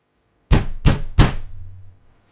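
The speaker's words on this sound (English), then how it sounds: "the knocking was loud enough to rattle the door" Three loud, heavy knocks on a door in quick succession, each hitting hard with a rattling thud, followed by a brief fading ring and then silence.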